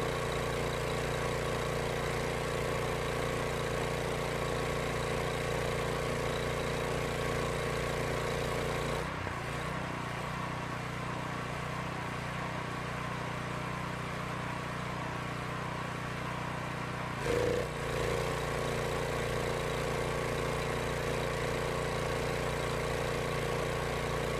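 A KOHLER carbureted engine runs steadily under increased load from a sprayer at maximum pressure, a loud continuous drone with a sudden shift in tone around the middle and another change later as the load varies.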